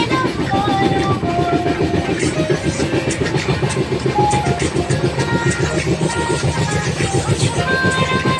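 A passenger train on the Mumbai to Hyderabad route runs on its tracks near Vikarabad Junction, with a loud, steady rumble and a continuous rhythmic clickety-clack of wheels over rail joints, heard from inside the train.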